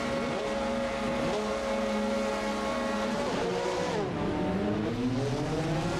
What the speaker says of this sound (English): So here the car's revving up.